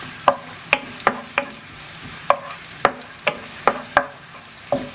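Thin-sliced coconut pieces frying in hot oil in a pan, with a continuous sizzle broken by a run of sharp, regular clinks and scrapes from stirring, close and with no voices.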